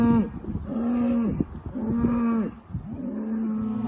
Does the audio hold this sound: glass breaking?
no